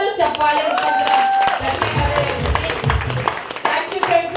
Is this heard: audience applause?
yes